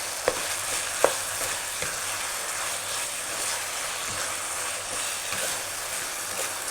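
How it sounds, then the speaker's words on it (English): Pork omelette filling with pepper sizzles steadily in a pan while being stirred, a few sharp utensil clicks near the start over a continuous broad frying hiss. "And now just stir all that in"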